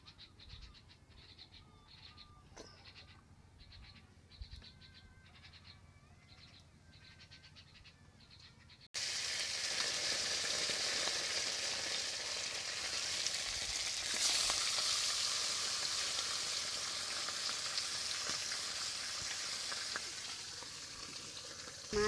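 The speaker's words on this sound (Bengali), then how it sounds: "মাছ ভাজা হয়ে গিয়েছে," Fish frying in oil in a wok on a home kitchen stove: after several seconds of quiet background with faint birdsong, a loud, continuous sizzle starts and holds steady to the end.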